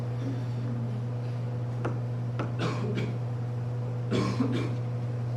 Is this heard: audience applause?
no